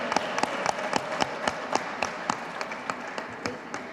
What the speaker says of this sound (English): can we just give another big round of applause to the kids who were willing to come up here and do their skit for us today?